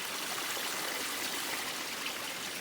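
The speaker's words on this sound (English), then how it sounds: "This stream." A stream beside a hiking trail below Mount Garfield on Franconia Ridge along the Appalachian Trail rushes in a steady, close, continuous wash of water, alone with no talk.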